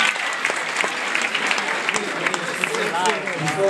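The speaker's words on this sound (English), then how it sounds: "Top achievers, please give yourselves a round of applause" Applause from the audience at a dinner event, a sustained wash of clapping from a room full of people, while a voice speaks over it near the end.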